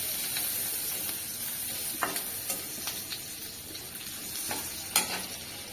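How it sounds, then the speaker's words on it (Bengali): Oil sizzles steadily in a pan as dal is heated for a sour dal dish in a village kitchen, a continuous close hiss with a few sharper crackles and pops, no talking. "এবার আমি ডালটা গরম দেবো, একটু তেল দিই, ডাল গরম দেবো।"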